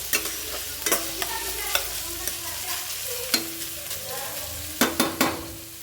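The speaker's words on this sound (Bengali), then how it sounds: "খুলে দিয়ে এটাকে আমি এবার নাড়াচাড়া করবো।" Beans and potatoes frying in a pan, stirred with a spatula: a soft continuous sizzle broken by a series of sharp clacks and scrapes at irregular intervals, close and alone without speech.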